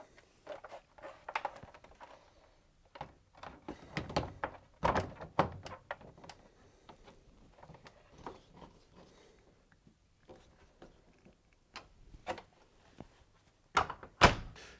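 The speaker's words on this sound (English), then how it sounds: "To refit the door, line up the 3 hooks on the hinge with the 3 holes in the cabinet before then fitting the screws." Refitting the door hinge on a Samsung ecobubble washing machine brings scattered close thunks, taps and clicks of metal and plastic parts being handled and seated, irregular and fairly quiet, with louder knocks near the end.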